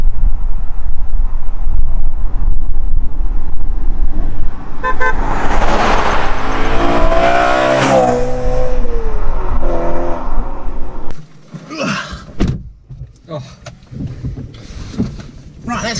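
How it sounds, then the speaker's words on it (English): A BMW M3 with the 4-litre S65 V8 revs hard, its exhaust rising and falling through loud sweeping pitch changes, then drops to quieter bursts and pops near the end. "let's go in this 4-litre V8. S65 engine"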